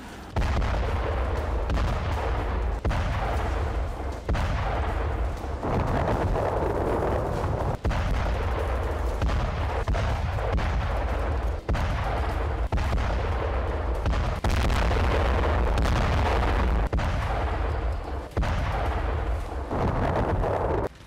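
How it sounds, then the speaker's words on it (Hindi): Israeli air force bombs suspected Hamas positions in Khan Yunis, heavy deep booms repeating in a steady series of blasts with short gaps between them, loud and continuous. "इजराइल की वायुसेना खान यूनिस के संदिग्ध हमास ठिकानों पर बमबारी कर रही है।"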